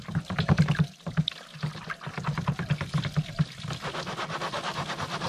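Water and clay mud swirl and slosh in a spinning blue bowl gold recovery pan, a rhythmic series of close, wet swishes repeating steadily throughout.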